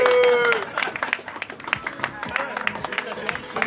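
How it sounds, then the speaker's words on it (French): Crowd applause and cheering at the finish of the Raid Sénon Aventure 2018 race, a dense outdoor clapping wash with shouts and a brief whistle, steady throughout with voices mixed in. "On peut l'applaudir encore,"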